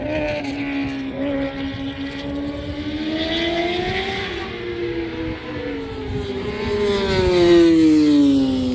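BMW motorcycles race past on the Circuito del Jarama track near Madrid. Their engines make a continuous high, wailing drone that shifts in pitch, swelling louder toward the end as one closes in. No voices are heard.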